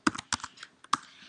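Keystrokes on a computer keyboard entering a short terminal command, a few sharp clicks in separate bursts with brief pauses, close and clear with no talk.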